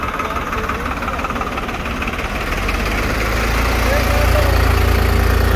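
A 55 hp tractor engine runs steadily in low gear at about 1000 RPM, a continuous deep idling drone with a slight knock that swells a little louder toward the end.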